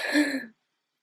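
A person gives a single short, close cough that sounds like a rough throat-clear, lasting about half a second, followed by silence.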